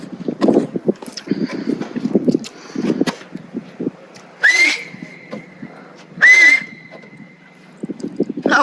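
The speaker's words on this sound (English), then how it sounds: "That was a good whistle." Two loud, sustained whistles from a person signalling across open ocean-side scenery, each a sharp rising note held about a second, with wind buffeting and clattering noise around them.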